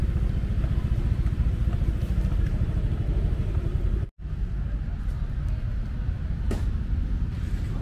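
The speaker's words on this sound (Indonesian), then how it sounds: "ini merupakan suasana parkiran motor ya yang ada di kawasan Tegalega ini" Motorcycle parking lot at Tegalega Park, Bandung: a continuous outdoor rumble of idling and passing motorbike engines with clattering, broken by a brief cut midway, someone talking intermittently over it.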